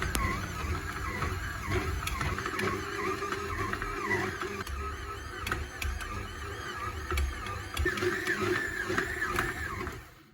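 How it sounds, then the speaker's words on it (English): A stand mixer kneads butter bread dough in a steady, continuous motor whir with a whining, squealing tone and rhythmic slapping and thumping from the bowl, loud and close throughout before cutting off at the end. "you're going to increase the speed of the mixer to 1 and then knead again for another 15 to 20 minutes"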